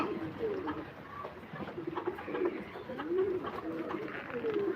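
Pigeons coo softly, with several low rolling calls repeating over a faint background hum.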